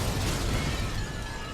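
Explosions in the video game Mass Effect 2, a dense, loud blast rumble with crackling debris filling the whole brief moment and tapering slightly, no voices.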